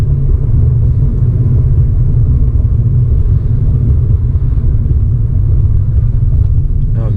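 A 2019 Kia Ceed with multi-link rear suspension driving over a badly broken road, heard from inside as a loud, constant low rumble of tyres and road noise.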